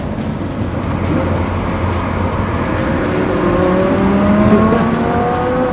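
A Lamborghini Huracán engine revs steadily nearby, with a sustained loud roar and rising tones as the throttle builds, heard alone without talk.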